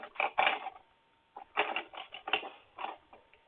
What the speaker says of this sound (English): I hear very loud typing.